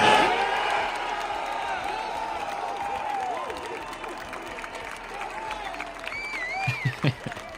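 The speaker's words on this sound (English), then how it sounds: "I guess the crowd went somewhat wild. They cheered it." A crowd cheers and applauds in response to a remark, a broad roar with whoops and scattered clapping, fading slightly then swelling again near the end with some voices audible.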